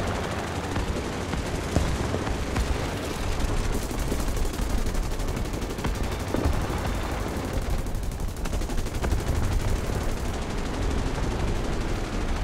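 Aircraft machine guns fire in War Thunder during an American dogfight, a dense, continuous rattle of rapid gunfire that stays loud and close throughout, with no talk.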